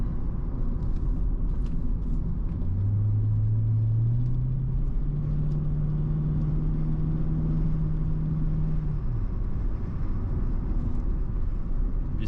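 Engine of a 2001 Chevrolet Corvette C5 with a Remus exhaust rumbling at low revs around 1500–2000 rpm, a deep steady drone that lifts slightly in pitch and holds before dropping off, loud and close throughout.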